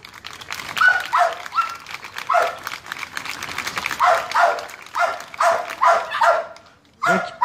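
Police defense dogs bark repeatedly at a canine demonstration, loud near barks and yelps in uneven bursts with short pauses between them.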